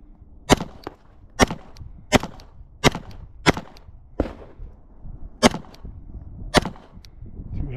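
Eight sharp, loud pistol shots from a Glock 17 Gen 4 firing handloaded rounds with Unique powder, spaced roughly a second apart at an outdoor range, each crack near and followed by a short echo.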